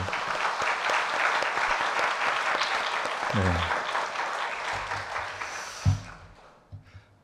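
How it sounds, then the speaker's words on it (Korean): A church congregation at a Wednesday service applauds in a sustained, dense burst of clapping that fades out near the end, with a few brief vocal sounds. "우리 한번 격려의 박수 하겠습니다."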